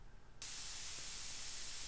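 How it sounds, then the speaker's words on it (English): Synthesized white noise switches on abruptly after a faint background and holds as a flat, bright, even hiss to the end. "then you can just use white noise."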